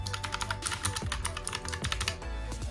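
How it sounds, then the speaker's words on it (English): Typing on a Razer Huntsman Mini keyboard, a rapid run of crisp keystroke clicks with a few heavier thocks, close and clear with no talk. "The Razer HUNTSMAN mini keyboard. This is my favorite keyboard."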